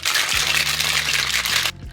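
Ice being added to a shaker or glass for a cocktail made with vanilla pear shrub, a dense steady rattling clatter for nearly two seconds that cuts off sharply, with a brief voice under it.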